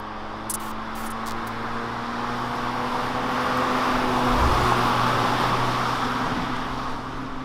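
A 2021 Kia Picanto engine pulls hard under acceleration, a steady droning rev with low harmonic bands that swells slightly midway amid broadband road and wind noise, continuous and close throughout.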